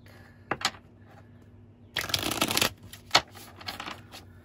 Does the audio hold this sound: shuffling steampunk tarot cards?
yes